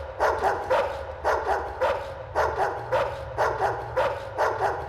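A dog barks in repeated short bursts, about five evenly spaced volleys of two or three barks each, loud and close with no talk over it.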